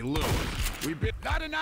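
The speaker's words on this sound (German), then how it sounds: "Warte, ich gebe Schüsse ab! Siehst du die Schüsse?" A short burst of several sharp gunshots in the zombie video game Left 4 Dead 2, close and loud, mixed with in-game noise and voices over the action.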